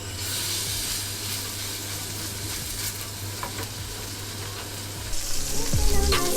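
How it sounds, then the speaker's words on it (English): Steak searing in a hot oiled pan, a loud continuous sizzle and hiss close by that swells and crackles harder near the end as the meat shifts, with a low hum beneath and no voices. "Now steak straight into our pan."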